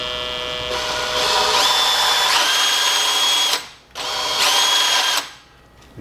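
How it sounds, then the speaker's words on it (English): Power drill spinning the shaft of a DIY welding positioner, a steady loud whine that rises in pitch as the speed changes, cutting off briefly and restarting before stopping, close by with no talking. "You can see with the different speed of the drill, you get a different speed. Obviously, rotating the positioner."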